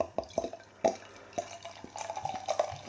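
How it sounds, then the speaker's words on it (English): Bottled Brew By Numbers golden ale with Motueka and Pacific Jade hops pours into a glass in a series of close, uneven glugs and drips, each a short wet burst separated by quieter gaps, with no voices. "Nice glug on the pour."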